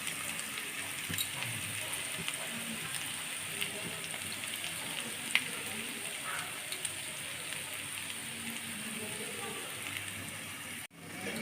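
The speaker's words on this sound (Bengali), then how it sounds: "হলুদের গুঁড়া মরিচের গুঁড়া দিয়ে আমি ভালোভাবে কষিয়ে নিব" A spice paste of turmeric and chili powder fries in a pan for koi fish curry, giving a steady, fairly quiet sizzle that runs unbroken to the end of the clip.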